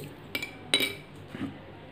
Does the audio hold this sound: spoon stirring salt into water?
yes